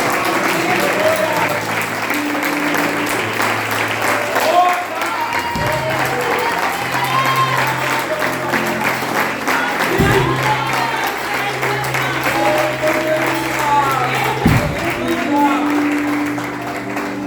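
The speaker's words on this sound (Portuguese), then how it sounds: "e você dá uma salva de palmas" Church congregation applauding steadily through a family worship and communion service, a dense, continuous wash of clapping filling the room at close range, with some cheering and background voices.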